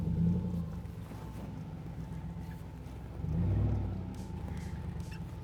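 A Hemi-powered Jeep Wrangler JL crawls up rocks off-road at Rausch Creek, its low engine rumble steady and close, swelling louder for a moment midway, with some wind buffeting.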